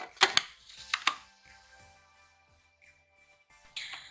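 A knife chops garlic, mint leaves, cumin and green chillies on a board, a few sharp close thuds in quick pairs, then quieter scraping and rustling before another soft chop.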